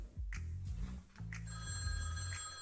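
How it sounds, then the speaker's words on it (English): A telephone rings in a bright, tonal pattern over low, sustained musical tones, moderately loud with no talking. "Is that the phone?"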